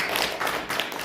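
A burst of applause from a group at an association's general meeting, approving a budget, dense overlapping claps filling the short moment, fairly close and steady.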